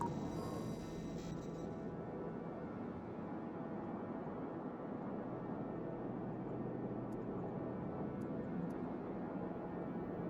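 A military plane flies back to base in the video game Broken Arrow, with a steady, even engine drone and rushing roar that holds the whole way through and no voices.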